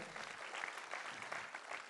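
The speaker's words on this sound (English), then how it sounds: "A big round of applause to all of them." Audience applauding the costume and makeup credits at a school annual day show, a quiet, steady patter of many hands clapping somewhat distant in a large hall.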